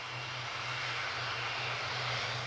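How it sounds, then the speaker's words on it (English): A broad, steady roar from a jet airliner's engines holds at a constant loud level throughout, with no voices. "the jet touched down in Athens."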